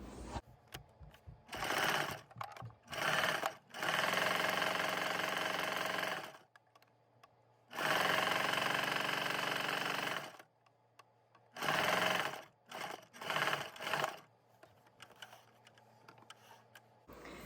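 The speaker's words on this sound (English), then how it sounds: "I'm gonna move it behind the sewing machine to get that view." A sewing machine whirs in several bursts, some short and stuttering, others long and steady, close by with no talking.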